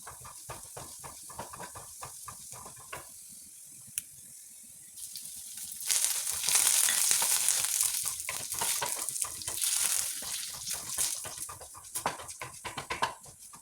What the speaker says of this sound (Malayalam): വെള്ളുള്ളി ഒന്ന് വഴന്ന് വന്നിട്ട് നമുക്ക് വറ്റൽമുളകും കറിവേപ്പിലയും കൂടി ഇട്ട് ഇളക്കി കൊടുക്കാം.